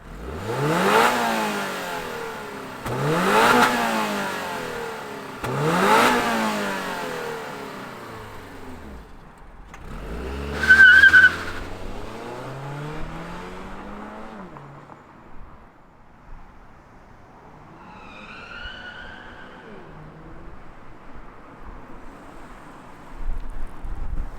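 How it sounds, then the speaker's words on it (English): A 2022 Subaru BRZ Limited's rear-wheel-drive flat-four gives three sharp, evenly spaced rev blips up close, then one more rising rev that drops back to a quieter idle. No one speaks. "let's fire up this flat 4 and hear what it sounds like"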